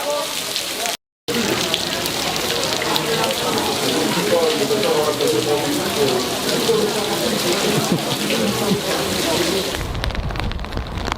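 Steady rain patters and hisses on surfaces close by at the ruins of Pompeii, dense and continuous, briefly cut out near the start.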